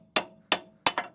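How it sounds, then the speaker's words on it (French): A hammer strikes a brass drift punch to knock out a part, three sharp metallic blows, the last followed quickly by a fourth, close and loud in a quiet workshop. "je vais utiliser le marteau et le jet en laiton. Donc là, il suffit de le casser."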